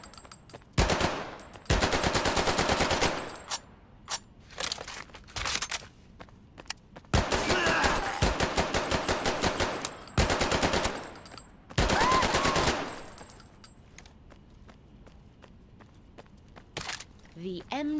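MG42 machine gun firing in the Medal of Honor: Above and Beyond video game, loud close bursts of rapid automatic fire repeated over and over with short pauses between, while a voice talks during the gaps.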